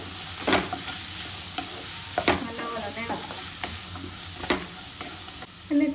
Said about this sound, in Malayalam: കടുകൊന്ന് പൊട്ടുമ്പോഴത്തേക്ക് നമുക്കിതിലേക്ക് കുറച്ച് വറ്റൽ മുളകും കൂടെ ഇട്ട് കൊടുക്കാം.